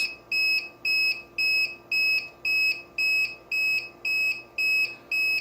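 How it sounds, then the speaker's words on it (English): A battery backup UPS running a water dispenser sounds its low-battery alarm, a loud, steady series of identical shrill beeps, about two per second, repeating evenly with no other sound. "if I turn the alarm on, it's just gonna constantly beeping"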